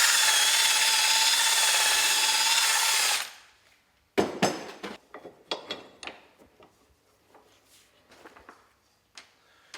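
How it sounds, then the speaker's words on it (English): A wire wheel cleans corrosion out of a Polaris Ranger wheel bearing hub, whirring for about three seconds before spinning down, followed by a series of sharp, uneven scraping and knocking bursts up close. "I'm just going to go in with the wire wheeler and clean it out"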